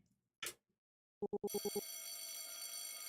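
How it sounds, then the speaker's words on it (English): A school bell from a video game rings at the end of class: a short burst, then a quick run of six clipped rings that gives way to a sustained, steady ringing tone, fairly loud and alone. "The bell rings, jolting me back, and I'm the first one up."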